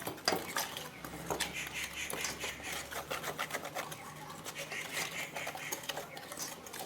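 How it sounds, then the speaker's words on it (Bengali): Spiced batter for begun bhaja being mixed in a bowl with salt and a few black cumin seeds, a steady run of soft scraping and tapping strokes, close and moderately loud, no voices. "এবার সমস্ত উপকরণগুলোকে আমি সুন্দর করে মিশিয়ে নিচ্ছি।"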